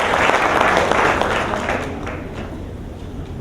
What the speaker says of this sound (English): a tremendous round of applause for the skill with which he conducted the deliberation